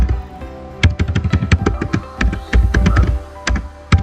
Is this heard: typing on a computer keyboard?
yes